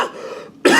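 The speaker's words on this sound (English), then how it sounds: "Sorry about the cough." A single short, harsh cough, close up, with a brief pause before a burst of breathy noise.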